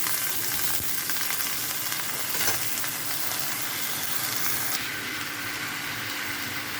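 Chopped potatoes fry in oil while being stirred for an egg, potato and tomato curry, giving a dense, continuous close sizzle with faint scraping throughout.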